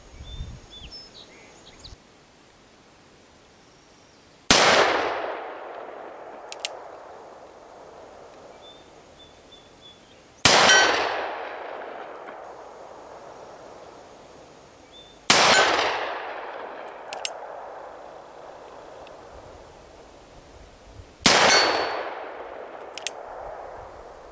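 Four magnum handgun shots hit a steel target outdoors at spaced intervals, each a sharp loud blast followed by a ringing metallic clang that fades slowly, with quiet gaps between them.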